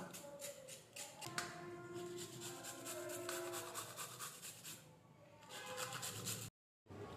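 Carrots are grated by hand at home for a leftover-rice dish, a continuous close rasping scrape in repeated strokes that stops abruptly before a brief silence near the end.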